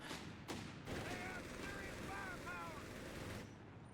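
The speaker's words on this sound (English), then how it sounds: "the MG continuing to suppress anything that wants to push down this central road" Machine gun fire from a US versus Wehrmacht 1v1 match in the video game Company of Heroes 3, the MG suppressing a central road. Bursts of distant gunfire and battle noise play at a low level across the whole stretch.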